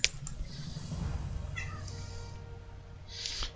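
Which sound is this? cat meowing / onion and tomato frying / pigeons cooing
cat meowing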